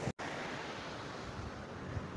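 Water rushes steadily at a waterfall while wind buffets the microphone, a constant broad roar heard up close with no voices.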